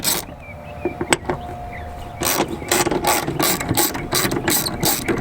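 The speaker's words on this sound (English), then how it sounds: "get a T50 Torx bit, and we're going to remove the hinge bolts that actually hold the hinge to the hood" Ratchet fitted with a T50 Torx bit loosening the hood hinge bolts on a Jeep Wrangler, heard as close, rapid clicking bursts that turn into a steady run of repeated ratchet clicks in the second half.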